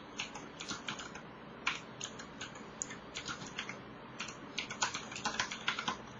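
Code is typed on a computer keyboard in quick, clattering bursts of close keystrokes with short pauses between runs, no voices over them.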